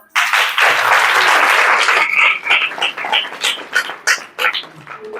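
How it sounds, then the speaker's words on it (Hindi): A church congregation breaks into clapping at a preacher's urging, loud and dense at first, then thinning into scattered, uneven claps and a few stray shouts as it fades. "इसके लिए तालियां बजाओ"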